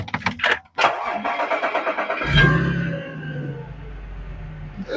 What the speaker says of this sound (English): Let me turn on the car.